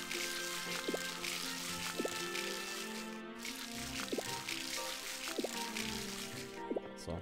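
A watering can pours over flowers in the farming game Harvest Moon: Light of Hope, giving several short, bright splashy drips at a steady pace beneath continuous game music.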